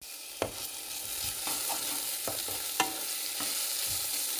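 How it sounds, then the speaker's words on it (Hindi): Spiced tempering for kadhi sizzles steadily in a hot pan, a close continuous frying hiss broken by a few sharp clicks and stirring knocks, with no talk. "ये हमारा कढ़ी का तड़का लग चुका है।"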